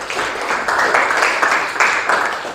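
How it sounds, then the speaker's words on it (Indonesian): A class of schoolchildren applauds in a steady, dense burst of clapping that fills the short stretch at an even, fairly loud level, with no break in the noise. "Kasih tepuk tangan terlebih dahulu."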